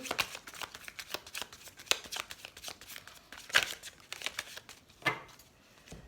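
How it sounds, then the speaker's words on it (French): A deck of lovers' oracle cards is shuffled for a tarot-style reading, giving close, crisp riffling and flicking bursts in an uneven rhythm, with a few louder snaps and no voices. "Alors, on va prendre quelques cartes de l'oracle des amoureux."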